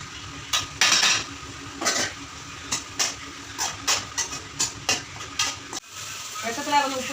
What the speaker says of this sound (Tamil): நல்லா தேங்காய் பச்சை வாசம் போடுற அளவுக்கு நல்லா வதக்கி போடணும்.